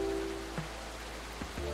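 Steady hiss of heavy rain pouring down in a storm scene of the video game Coffee Talk Episode 2, a quiet continuous wash with a low hum beneath and a few soft thuds, no voices.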